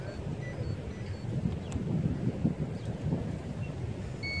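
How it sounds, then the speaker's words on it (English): Wind buffets the microphone outdoors at a drone flying spot, a steady low rumbling roar with gusty swells throughout and no voices. "And there's some wind out here as well."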